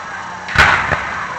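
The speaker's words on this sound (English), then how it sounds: "I don't think they exactly know how to set off fireworks." Fireworks show with long pauses between launches: one deep, booming burst with a bright crackling spread, then a smaller thump just after, heard from some distance with no talk.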